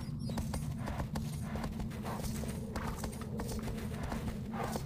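Horse hooves clip-clopping in the PS2 video game Shadow of the Colossus; a steady, rapid run of hoofbeats, loud and continuous over a low rumbling background, with no talking.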